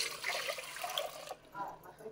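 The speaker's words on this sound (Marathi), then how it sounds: "मी हे पाणी आता ह्या पातेल्यात घालते" Water poured from a vessel into a thick-bottomed cooking pot for rice-flour chakli dough, a short broadband splashing stream lasting about a second before stopping, close and moderately loud with no talk over it.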